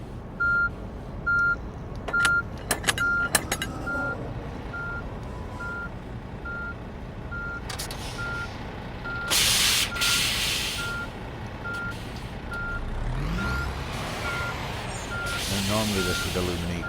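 Reversing beeps from a truck in the video game On the Road repeat steadily at an even pace alongside engine noise and air brake hisses, while someone talks over them.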